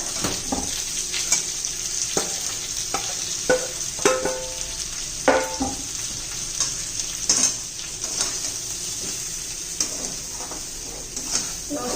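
Masala sizzles and fries in a pan while a spoon scrapes and stirs it, giving a steady hiss broken by repeated clinks and scrapes, close and fairly loud with no talking.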